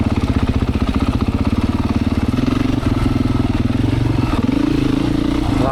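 A Beta 500 dirt bike with a 14-tooth front sprocket chugs along single-track trail in second gear, its engine thumping in a steady rapid rhythm close by, with slight revving swells and no talk.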